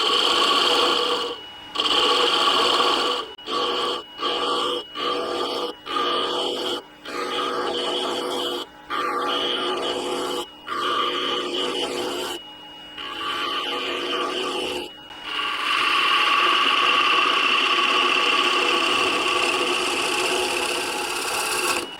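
A wooden ornament spins on a lathe as a large gouge tapers it toward the end, stripping away bulk in a steady rasping, whirring cut broken by repeated short pauses, then a longer continuous cut toward the close.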